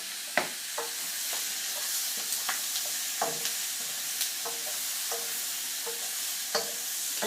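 Vegetables stir-fry over full heat in a pan for a takeaway-style Chinese curry, a continuous bright sizzle broken by regular scraping and clacking strokes of the utensil, close and alone.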